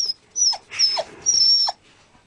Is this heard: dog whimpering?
yes